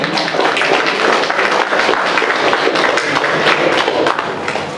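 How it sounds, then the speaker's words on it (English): An audience at a video game convention panel applauds steadily, a dense, loud wash of clapping that lasts the whole stretch with no talk over it. "Let's give a round of applause for Dan."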